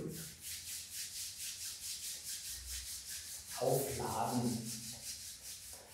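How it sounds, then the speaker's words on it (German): Palms rub briskly together during a seated Eight Brocades qigong exercise, a close, steady swishing friction with a soft voice speaking briefly over it partway through. "Und dann die Hände reiben,"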